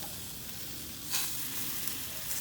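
Marinated meat on an Americana portable charcoal grill gives a steady, fairly quiet sizzle with a soft crackle and a few light pops, and no one speaks.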